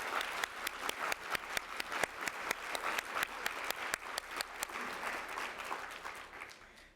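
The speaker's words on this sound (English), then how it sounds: "Can we have a round of applause for our new folks?" Steady applause from a group, with distinct individual claps near the front over a dense wash of clapping that fades slightly toward the end.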